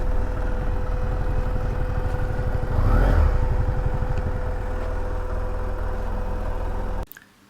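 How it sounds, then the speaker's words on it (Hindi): A BMW F650GS motorcycle idles while being parked, a steady close mid-range engine thrum with a brief rise in revs, then the engine cuts off abruptly near the end. "यहाँ पर हम अपना बाइक पार्क करते हैं।"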